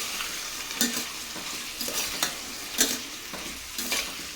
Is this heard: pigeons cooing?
no